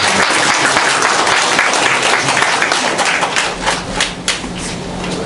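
Listeners at a political party academy session on the economy give a professor a loud round of applause, dense and sustained before tapering slightly.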